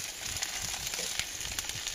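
Steady crackling sizzle of perch frying in a pan preheated over a campfire, with faint pops and snaps throughout, close and continuous.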